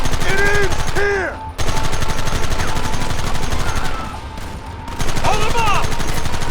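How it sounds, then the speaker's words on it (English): Rapid gunfire crackles through a battle in the video game Red Dead Redemption, dense overlapping volleys of shots that pause briefly and resume, with shouting voices mixed in. "Fire at will!"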